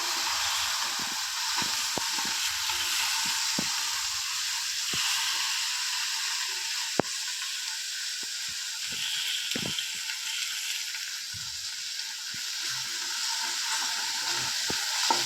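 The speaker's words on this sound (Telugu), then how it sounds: "అల్లం వేగాలి." Ginger paste frying in a pan for an egg and tomato curry, a soft steady hiss and sizzle with scattered light pops and clicks, close and without talk.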